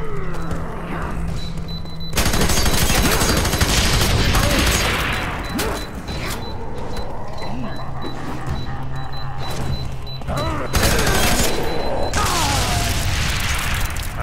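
Rapid gunfire bursts in the video game F.E.A.R., loud and close, with heavy booms and mechanical clatter between volleys, and players talking intermittently.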